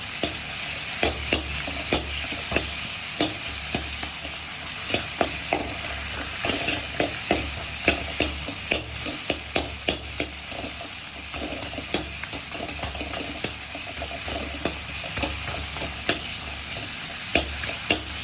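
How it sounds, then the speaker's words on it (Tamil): Tomatoes sauté in a hot pan for a mutton fat gravy, giving a steady close sizzle broken by regular clicks and scrapes of a spoon stirring, with no voices. "தக்காளி நல்லா பச்சை வாசனை நல்லா வதக்கி எடுத்துக்கணும்"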